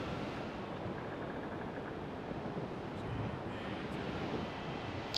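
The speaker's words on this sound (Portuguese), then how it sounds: "Vamos passar por cima dessas ondas aqui." Ocean waves wash steadily as a sailing ship cuts across the sea in Assassin's Creed IV: Black Flag, a continuous broadband rush with wind, fairly loud and unbroken throughout.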